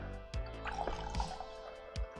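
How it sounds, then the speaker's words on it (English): Water with whiskey in it is poured into a glass, giving a few quiet splashing drips and short bursts of liquid against a steady low background, with no voices. "Let's pour some more water"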